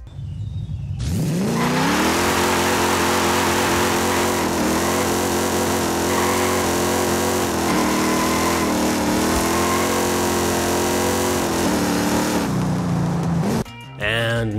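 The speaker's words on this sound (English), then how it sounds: "That is a 7-litre, 425 brake horsepower Hemi engine and the scraps of a Dodge Dart." A Dodge Dart barn find fitted with a 7-litre, 425 brake horsepower Hemi V8 in Forza Horizon 5 fires up and revs loud and close, a steady throaty drone with swelling pulls that holds for over ten seconds before cutting off.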